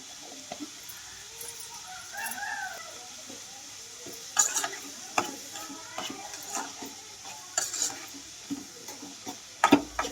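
Sliced onions cook with salt and turmeric in a pan, a quiet low sizzle broken by scattered clicks and taps of a spoon against the vessel, close by and fairly faint.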